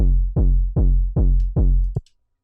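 A distorted sub bass layer of an acidcore kick drum thumps five times in a steady rhythm, each hit a loud, deep, sustained boom with a gritty harmonic buzz and a sharp attack, ending in a short tail and silence.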